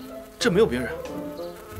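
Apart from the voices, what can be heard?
bee buzzing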